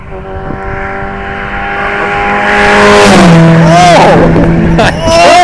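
A Ford Escort race car blasts past at high speed, its loud engine note building and rising before sweeping by with a sharp pitch drop. Excited voices talk over it.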